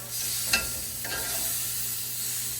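Zucchini strips sizzle on a hot grill, a steady broadband hiss with a couple of brief crackles, close and moderately loud with no talking.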